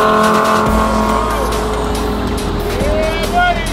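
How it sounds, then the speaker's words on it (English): A tuned Lamborghini engine revs loudly with crackling exhaust pops, its tone rising and falling under tire-like squeals and a voice speaking over it. "The pops and bangs make this car come to life."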